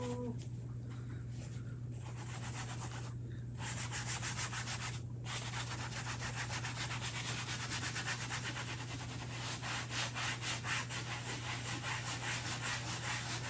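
Chalk paste being rubbed gently off a stencil: a steady, close scrubbing and scraping texture that runs throughout, with brief pauses early on and a constant low hum underneath.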